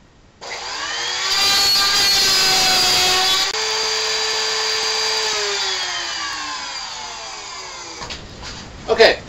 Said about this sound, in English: we're using power tools